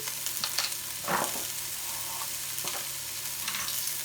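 Garlic fries in a large soup pot as a lentil, chickpea and vegetable soup gets started, giving a steady close sizzle with a few soft stirring scrapes and no speech.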